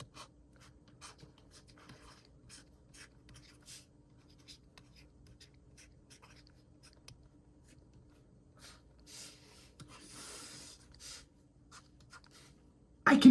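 Faint scratching of a stylus writing by hand on a tablet or screen, soft intermittent strokes in a quiet room, ending in a brief louder bump.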